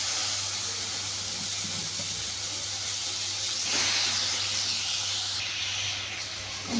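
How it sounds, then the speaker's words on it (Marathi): Chopped onion and tomato sautéing in a pan for masala pav or dabeli, a steady close sizzling hiss with a brief louder flare midway. "टोमॅटो कांदा छान आपण परतून घेत आहोत."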